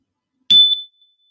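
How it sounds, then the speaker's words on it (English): A single chime struck once, a bright metallic ring with a sharp attack that fades quickly into silence, heard alone. "Listen to this chime."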